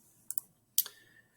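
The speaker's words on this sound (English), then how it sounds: "I'm going to do the right click." A computer mouse right-clicks close up: a quick double tick, then a sharper click moments later, with near quiet in between.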